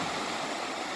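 Steady broadband rush of Pacific surf near Rialto Beach, Washington, constant and fairly loud, with no distinct breaks.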